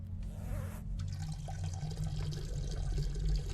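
Water splashes and gurgles in a toilet bowl, with a brief sharp splash near the start followed by continuous trickling over a low background rumble.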